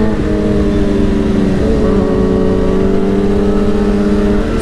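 A motorcycle engine drones loudly and steadily while riding, its pitch shifting slightly as it moves through an upshift, heard close with no talk.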